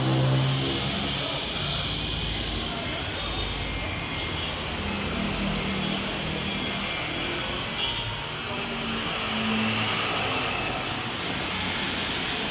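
An Isuzu C190 diesel truck engine with manual transmission idles steadily and loudly, a continuous low rumble with a slight rise in revs partway through, no one speaking.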